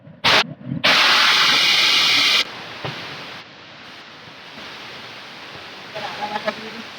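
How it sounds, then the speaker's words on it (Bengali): Water splashed into hot oil with cumin seeds while cooking kochu shak with hilsa fish head: a loud, close burst of hissing sizzle lasting over a second, then settling into a quieter steady crackle. "আমি একটু এর মধ্যে একটু জল দিয়ে দিচ্ছি"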